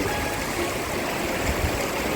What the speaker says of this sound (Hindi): सामने देखिए झरना कैसे कूद कर निकलता हुआ है ग्लेशियर से, और उसी ये धारा बनाकर